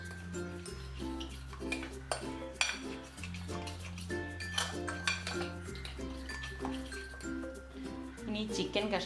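Utensil clinks and scrapes against a bowl while chilli paste is mixed into food for garlic chilli chicken, a steady run of light taps under louder background music with deep sustained bass notes.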